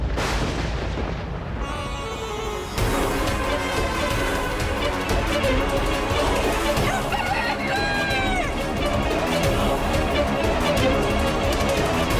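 A rooster crows in a dramatic mythological television scene, the call rising over a dense, loud orchestral score with booming effects, partly masked by the music.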